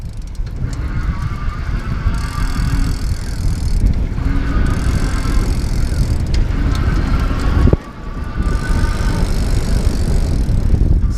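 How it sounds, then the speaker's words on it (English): Leisger CD5 e-bike ridden in pedal assist mode, its motor whining in repeated surges as it kicks in, over constant wind and road rumble. "Now I'm gonna do pedal assist mode and try to watch as I pedal and listen for the motor"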